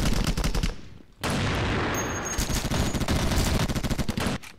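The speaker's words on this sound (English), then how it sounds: "I'm gonna try using the Deagle again." Desert Eagle pistol gunfire in the online shooter KUBOOM, with bursts of rapid, loud, sharp shots, a brief pause, then a long dense barrage of repeated reports in quick succession.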